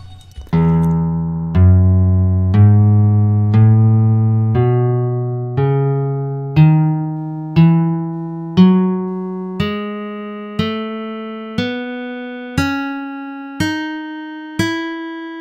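A keyboard plays an ascending major scale, one distinct note at a time, each struck note decaying before the next. Roughly a dozen evenly spaced notes climb steadily in pitch, heard clearly and alone.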